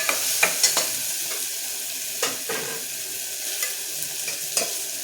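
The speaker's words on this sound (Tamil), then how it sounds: "ரெண்டு தக்காளி போட்டு தக்காளி நல்லா வதங்கட்டும்" Tomatoes sautéing with ginger garlic paste in a pan for Chettinad-style country chicken soup: soft frying hiss under sharp, irregular spoon scrapes and stirs, close by with no talking.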